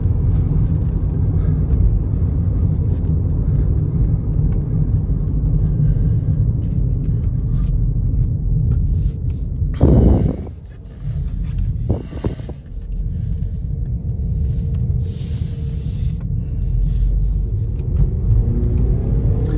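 A 2022 Ford Bronco Sport with the 2.0-litre engine accelerates on the road, a loud continuous engine rumble and road noise heard from inside the cabin, with a brief dip around the midpoint before the drone resumes.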